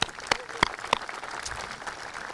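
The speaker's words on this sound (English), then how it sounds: "I just want to give them another round of applause" A few sharp, separate claps ring out near the start at a university grand opening for a student-athlete performance center, then fade into a steady, diffuse wash of crowd noise in a large room.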